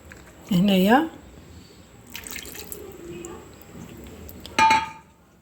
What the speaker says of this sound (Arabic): هنايا هذاك الصحن اللي تبلت فيه درت له شويه ماء